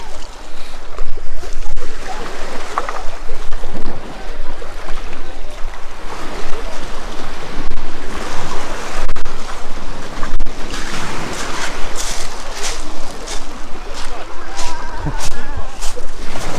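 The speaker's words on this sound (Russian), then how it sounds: "Вот он, звук моря." Black Sea waves at Batumi beach roll and wash loudly close by, a continuous surging hiss of surf with swells rising and falling, wind noise, and people talking in the background.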